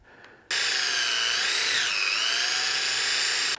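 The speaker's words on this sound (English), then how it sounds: "we're gonna drill a bunch of holes" A power drill bores holes while building a rubber blanket cut mold, whining steadily at high pitch after a brief quiet start, then briefly dipping in pitch as the bit loads before resuming, close and loud with no talking.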